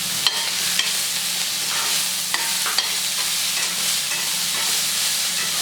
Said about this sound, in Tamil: வெங்காயம் வதங்கிடுச்சுங்க